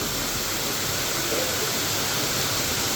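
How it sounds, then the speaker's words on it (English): Continuous rushing hiss of a waterfall beside a café in Chiang Mai, a dense steady wash of falling water close by and without a break. "such a mushroom waterfall."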